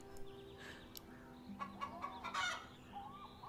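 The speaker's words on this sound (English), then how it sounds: "There we have a chicken" A chicken in the game Star Stable gives a few short clucks and squawks over a low ambient hum, faint and brief.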